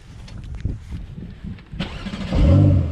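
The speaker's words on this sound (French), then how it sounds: "Donc là, il y a le gentil Mathias qui va nous faire entendre l'échappement avec les deux modes différents." A Porsche 992 Carrera S cranks and fires up, its exhaust catching with a sharp bark and settling into a loud, deep rumbling idle, close by after some quieter shuffling, no speech.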